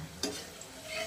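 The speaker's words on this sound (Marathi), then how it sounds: "मीडियम गॅसवर तळून घ्यायचं" A small snack of cut fries frying in oil over a medium flame, a soft steady sizzle with one brief clatter near the start, heard alone at low level.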